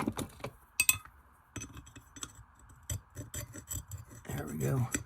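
Hardened old grease is chipped off the case of an Olympic Hurricane Destroyer fishing reel, producing irregular sharp ticks, clinks and short scrapes close up over a faint background hum.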